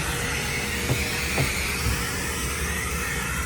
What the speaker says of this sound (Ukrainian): І ми хочемо пропилососити чуть-чуть всередині.